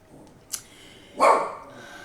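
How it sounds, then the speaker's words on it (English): A dog barks twice, a short sharp yip followed by a louder, fuller bark, fairly close with quiet room tone between. "please excuse my dog, please. It's being noisy."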